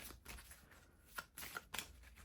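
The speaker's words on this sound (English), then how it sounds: "I'm going to shuffle them" A deck of cards shuffled at close range on a tabletop during a tabletop wargame, a quick burst of riffling flutters and soft snaps, heard alone without talk.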